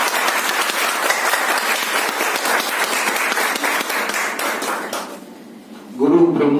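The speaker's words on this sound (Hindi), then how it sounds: "एक बार जोरदार तालियों" Loud applause from an audience at a World Kidney Day event, dense and sustained for about five seconds before thinning out, followed by a brief murmur of voices.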